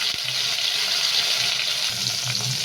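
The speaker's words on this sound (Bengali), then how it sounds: "জিরে শুকনো লঙ্কাকে ফোড়ন দিয়ে আমি এই সবজিগুলি দিয়ে দিলাম" Vegetables including pumpkin sizzle steadily in oil tempered with cumin seeds and dried chilli, a constant close hiss with faint stirring knocks and no talking.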